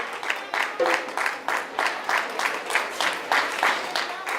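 An audience at a Kwanzaa children's party claps for a group of young people in steady, rhythmic bursts, with a voice speaking over the clapping.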